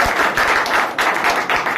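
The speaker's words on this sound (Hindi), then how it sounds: "उनके लिए ताली बजाइए।" Brief bursts of audience clapping in a hall during a motivational training session in Surapur, coming in short rhythmic waves.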